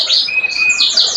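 Young male Scotch Fancy canaries chirp in repeated bright, high tweets with a thin sustained whistle running through, close and clear with no voices.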